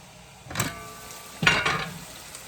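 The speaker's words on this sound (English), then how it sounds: "mix everything, you stir it up, stir it in" Palm oil stew being stirred in a pot, two brief scraping stir strokes over a faint bubbling sizzle, close and otherwise quiet.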